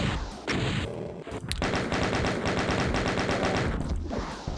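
Rapid gunfire in the video game Doom 2, a dense continuous burst of loud rattling shots after a brief pause, filling the clip with no talk.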